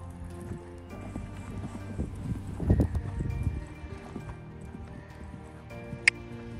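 A horse canters on a lunge line, its hoofbeats thudding in an uneven rhythm that swells to a loud burst midway and then eases, with a sharp click near the end.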